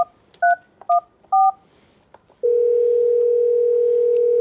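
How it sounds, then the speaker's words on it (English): A Grandstream desk phone dials an extension during a call: four short DTMF keypad beeps in quick succession, a couple of faint clicks, then a steady tone held for about two seconds, clean and close with no voices. "While in call, to do a conference call, press the conference call button. Dial the extension."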